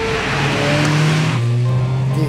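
A Škoda Octavia RS 230 drives close by, its engine note steady and loud before dropping slightly in pitch as it moves through, with faint tire noise underneath.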